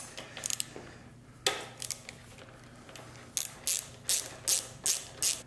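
Ratchet wrench with an 8mm socket backing out bolts from the front number plate of a Honda CRF dirt bike: several quick clicking bursts, sparse at first, then a steady run of close ratchet strokes.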